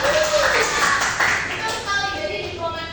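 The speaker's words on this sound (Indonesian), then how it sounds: "tepuk tangan" Students in a classroom applaud briefly, a scattered patter of clapping mixed with people talking over it.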